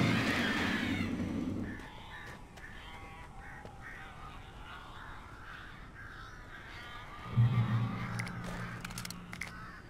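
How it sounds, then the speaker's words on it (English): Crows caw in the Alan Wake video game, a run of harsh repeated calls over a steady ambient drone, with a louder low rumble and clicks near the end. "These birds are weird."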